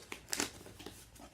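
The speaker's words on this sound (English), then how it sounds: "First, Kateri, we're going to open this Grove collaborative box." Cardboard Grove Collaborative delivery box being cut open with a small blade, giving brief crinkling, tearing scrapes in two or three quick bursts, close and fairly quiet with no talk.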